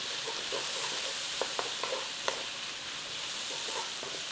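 Vegetables sautéing in a pan with a pinch of dried thyme for a cauliflower and potato soup, a steady soft sizzle with a few sharp clicks and taps partway through, fairly quiet throughout.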